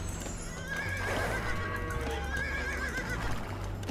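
A horse neighs twice with a shrill whinny in Age of Empires 2 Definitive Edition, over a steady low rumble and faint hoofbeats.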